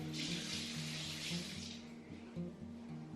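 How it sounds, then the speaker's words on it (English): A kitchen tap runs in a steady hiss as hands are washed under it, quiet and close, with the water flow easing off toward the end. "Always wash your hands."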